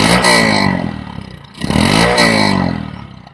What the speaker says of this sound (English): the standard exhaust sound straight out the back